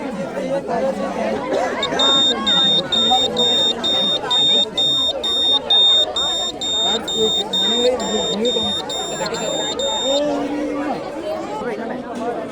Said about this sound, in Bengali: অ্যালার্মটা বাজতেছে